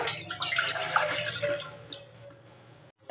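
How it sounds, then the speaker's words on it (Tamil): Milk pours into a pan for payasam in a steady, close liquid stream lasting a few seconds, then stops abruptly. "ரெண்டு கப் அளவு பால் ஊற்றுறேன்"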